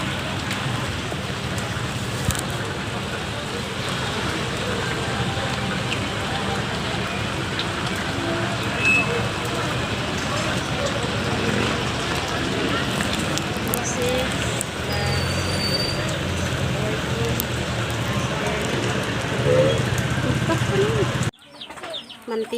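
Steady rain patters across the whole scene, with chickens clucking and people talking faintly in the background; it cuts off abruptly near the end.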